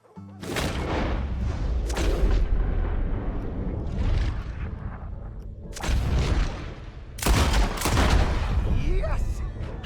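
Gunfire in the video game Red Dead Redemption 2. Several loud booming shots come at irregular intervals, each followed by echoing decay, and spoken dialogue is heard in the background.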